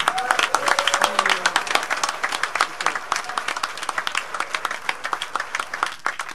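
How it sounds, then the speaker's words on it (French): A small audience claps for Alain, the sound engineer at the console, with loud, fairly dense applause that thins into sparser, distinct individual claps as it goes on, and a brief voice near the start. "Donc Alain, on l'applaudit."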